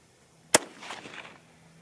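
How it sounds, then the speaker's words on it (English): A single 22 ARC rifle shot firing a Sierra 69gn TMK bullet: one sharp, loud crack followed by a short rumbling echo that fades within about a second. "All right, second shot."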